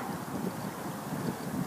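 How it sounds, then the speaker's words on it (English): Wind gusting around a homemade horizontal axis wind turbine outdoors, a continuous rushing, buffeting roar with microphone wind noise and no speech. "There's a little more of a gust there, it's picking up."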